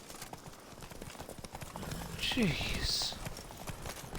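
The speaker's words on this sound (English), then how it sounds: "Can you get on the damn horse?" Horse hooves clip-clopping in The Witcher 3 as the horse is called and mounted, a steady patter under a voice with a short snort or whinny partway through.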